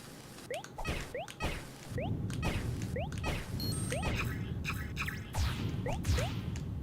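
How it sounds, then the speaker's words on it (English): Splashy game sound effects of a character repeatedly falling into water in Toree Saturn, a series of quick whooshing drops and wet splashes with game chimes layered over a steady background rumble, no music or talk. "I love that sound of just falling in the water."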